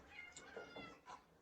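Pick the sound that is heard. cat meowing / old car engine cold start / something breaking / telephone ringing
cat meowing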